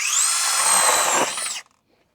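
A DocSmart cordless mini electric chainsaw, 6 or 8 inch bar, spins up with a loud steady high whine for about a second and a half, then cuts off abruptly and falls silent.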